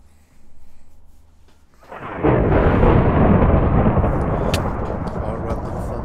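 Thunder rolls in a Minecraft game, a sudden loud broadband rumble that swells after a quieter stretch and sustains for several seconds.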